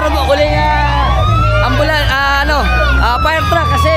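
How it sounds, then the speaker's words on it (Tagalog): A fire truck siren wails with rising and falling sweeps as it heads toward a fire in Barrio Atlag, Malolos, with crowd chatter and street noise underneath throughout. "Ito yung ating fire truck."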